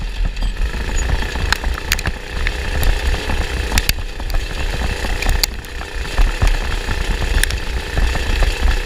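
A go kart engine labouring up a steep, rocky vertical hillclimb, a loud, rough, steady drone with sharp clicks and knocks from the rocks, heard close.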